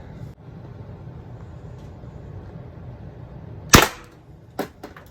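A Pepperball TCP launcher fires Grimburg JUL rounds at a metal target: one sharp loud crack followed by a fading ring, then a fainter second smack and quick tail hits against a quiet background.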